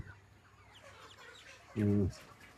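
A chicken in a poultry farm flock of about 3,150 birds averaging 2.5 kg gives one loud, close cluck burst near the end, after a stretch of quiet barn ambience with a low steady hum.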